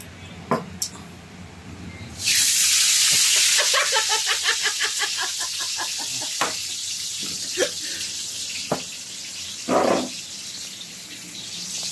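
Water splashes and pours from a tabo dipper in a bathroom, a loud rushing burst followed by uneven trickles and splashes, with a few knocks and a voice in the background.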